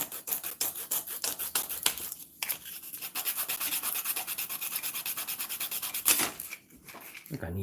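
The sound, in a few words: sanding a plastic model car part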